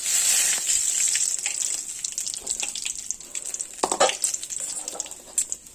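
Nigella seeds and bay leaf fry in hot oil for a pabda fish curry, giving a steady close hiss that settles into crackles and a few sharp pops.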